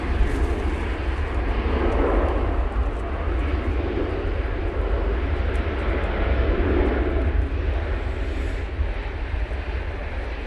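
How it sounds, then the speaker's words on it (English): An airliner lands at Manchester Airport on a windy day, giving a continuous low roar of jet engines with gusting wind noise that swells and fades slightly but stays steady, with no voices. "Lovely landing."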